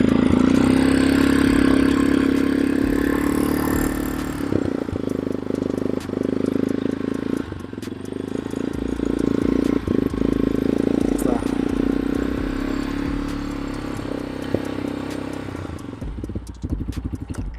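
A restored Yamaha Raptor 250 ATV engine runs steadily at a loud, close idle for the whole stretch, with a rough low-pitched chug and light mechanical clatter, and a few small shifts in the throttle toward the end.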